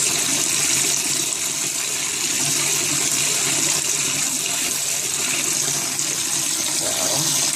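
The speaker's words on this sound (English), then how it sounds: "gotta turn the water off" Kitchen tap water runs steadily while red beans are rinsed, a continuous loud splashing hiss with no pauses throughout.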